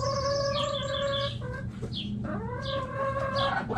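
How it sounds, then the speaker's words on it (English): Hen clucking and calling in a series of tonal, bending bird calls over a steady low background hum, close and fairly loud, no talk. "H for hen."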